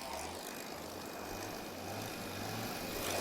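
A Rolls-Royce Merlin aircraft engine turns over at an airshow, its steady low propeller drone humming under broad outdoor wind noise and building slightly toward the end.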